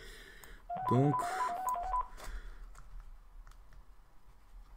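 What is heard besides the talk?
telephone ringing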